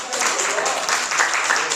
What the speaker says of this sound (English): Let's give him a round of applause too